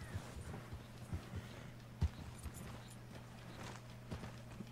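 A horse's hooves clop at a walk in Red Dead Redemption 2, giving soft, uneven thuds against a faint low ambient hum.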